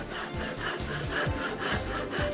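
A hand saw cutting through a piece of wood during technical training, with about six steady rhythmic rasping strokes, close and moderately quiet, with no talk.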